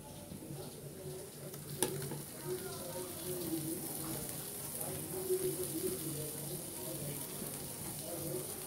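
Boiled fish going into a frying pan for fish fingers gives a steady, moderate sizzle with stirring scrapes and a sharp clink near two seconds, over a faint tonal hum in the background.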